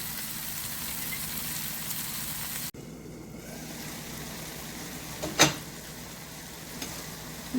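Vadiyalu, lentil dumplings, fry in a pan with a continuous soft sizzle that drops in level partway through. A single louder clink stands out near the middle, and no one speaks.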